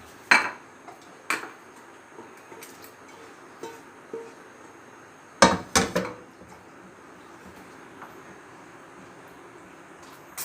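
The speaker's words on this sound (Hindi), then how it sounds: "अब हम इसे डिश आउट कर रहे हैं।" Beef karahi served out of a metal cooking pan, with sharp clanks and scrapes of a utensil against the pot in two short clusters and a few softer knocks in between, close up and with no talking.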